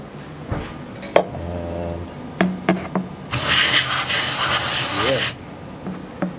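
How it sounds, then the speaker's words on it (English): Carb cleaner sprays onto the throttle body of a Vortec 4.3L V6 in one loud, close, two-second hissing burst, with a few knocks and some brief talk around it. "give it a squirt with more Carb Cleaner"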